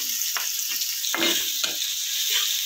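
Chopped onion dropped into hot oil for a home-style egg curry sizzles with a loud, steady hiss, with a few clinks and scrapes of a spoon against the pan.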